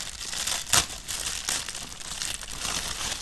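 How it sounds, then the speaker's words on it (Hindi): Polythene packaging around mop wipes crinkles and rustles as it is opened by hand, with one sharper tearing crackle early on, close and continuous, with no talk. "तो इसको ओपन करते हैं, पॉलीथीन में पैक होके आता है।"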